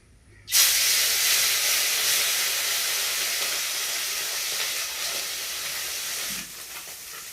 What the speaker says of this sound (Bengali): মাছগুলোকে এক এক করে ছেড়ে দেব।